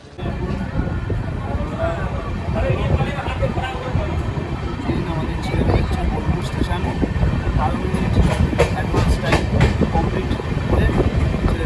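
The Amrit Bharat Express pulls away, heard from inside: a steady rumble with clickety-clack wheel beats that grows a little louder, and faint voices in the carriage beneath it.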